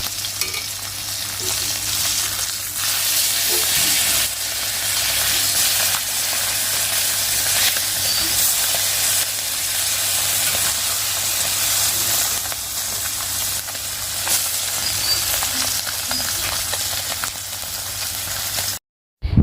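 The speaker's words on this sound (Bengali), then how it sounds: "মাছ তিনটা ভেজে নিচ্ছি আর আলু দিয়ে বানাবো ঝোল" Three fish rubbed with salt and turmeric fry in a pan with a loud, continuous crackling sizzle and hiss over a faint steady hum, then a brief cutoff near the end, no talking.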